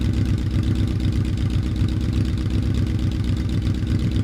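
A Yamaha Royal Star Venture motorcycle fitted with Harley mufflers idles nearby, giving a steady, even low rumble that holds constant throughout with no revving.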